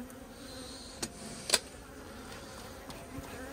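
Faint buzzing of honeybees flying around a hive, a soft steady drone with a few brief louder passes close by.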